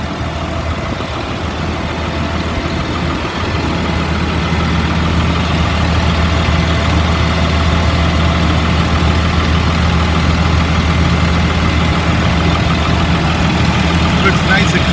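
The engine of a 2004 Blue Bird All American 72-passenger school bus idles with a steady low diesel rumble, close and continuous, while a person talks over it.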